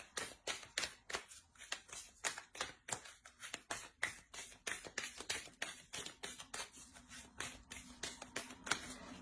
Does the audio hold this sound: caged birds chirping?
no